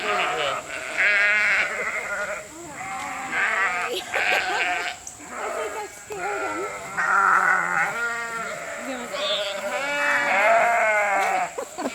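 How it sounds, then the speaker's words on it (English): Sheep bleat repeatedly outdoors at a pick-your-own muscadine grape farm, their calls loud and overlapping throughout while people talk nearby. "I wonder what kind of sheep those are."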